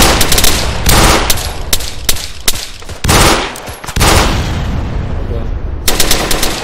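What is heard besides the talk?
gunfire in a video game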